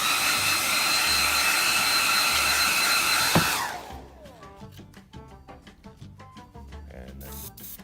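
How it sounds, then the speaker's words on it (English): A hairdryer blows on a freshly decaled scale model, a loud steady broadband roar for about three seconds before cutting off abruptly, leaving quieter ticking and rustling handling noises afterward. "I'm just going to hit this with a hairdryer"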